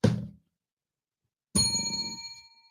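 A desk bell is struck once, giving a bright metallic ding with ringing overtones that decays over about a second, after a brief dull knock and a moment of silence.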